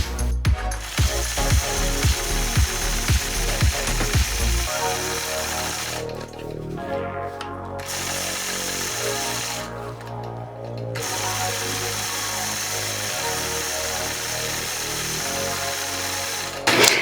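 A sewing machine ruler-quilts a flower on a quilt's scalloped border with a Sway ruler, opening with a quick run of rhythmic stitching pulses that settles into a steady, close mechanical hum broken by two short pauses.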